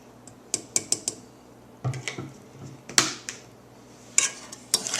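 Banana bread batter with oil and vanilla being mixed and mashed in a bowl, heard as a series of sharp, irregular clinks and taps from a utensil striking the bowl, close and fairly crisp with small gaps between hits.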